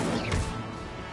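Incendio fire spell cast in Hogwarts Legacy, a short burst of whooshing flame with a crashing impact, loud and close over steady game background noise.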